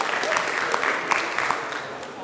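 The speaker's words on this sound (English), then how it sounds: "Let's give a big clap to TJ and Jason as they give us our announcements." Applause from a college assembly audience at a Monday morning gathering, a short steady patter of clapping at moderate level, with some crowd noise mixed in.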